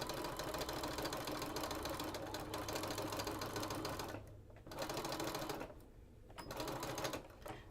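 A sewing machine stitches quilt border strips onto a quilt block, running in a steady mechanical whir with two short pauses before starting up again.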